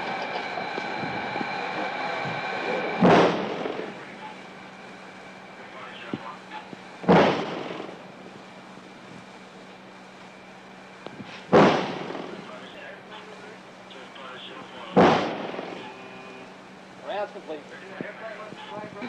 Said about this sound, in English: I should use One gun, five salvo,